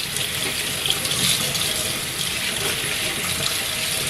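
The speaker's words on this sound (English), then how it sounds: "I'm just going to rinse these off." Tap water runs steadily over large pieces of raw meat being rinsed in a kitchen sink, a continuous close splashing hiss with no pauses.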